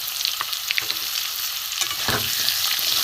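Ground spices (salt, turmeric, chilli, cumin, coriander) and ginger frying in a pan, a loud, dense sizzle under repeated scraping stirs, close up and continuous with no voices.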